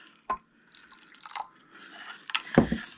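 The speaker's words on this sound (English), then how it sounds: "now we're going to add a little more water" Water poured into a papyrus paper mixture, a few close wet drips and splashes followed by soft squishing and sloshing, sparse and quiet with no talking.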